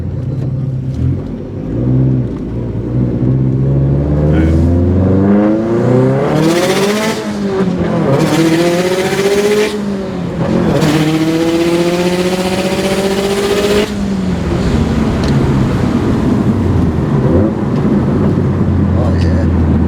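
A Subaru WRX STI in Sport Sharp mode is driven hard, its engine loud and close as it climbs through rising revs with gear changes, under a man's speech.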